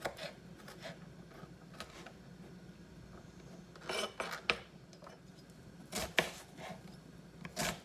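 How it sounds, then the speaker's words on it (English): A knife chopping garlic and onions taps and scrapes on a cutting board, quiet irregular chops with a few sharper clusters of strokes, no talking. "I'm just chopping up my garlic and going to be chopping up my onions"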